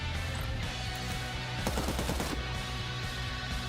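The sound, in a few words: gunfire in the video game Cyber Knights: Flashpoint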